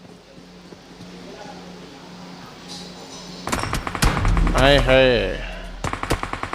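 Gunfire from an AWM sniper rifle in a PUBG match comes in sharp cracks and bursts during the second half, close and loud, while someone commentates in Hindi over the shots.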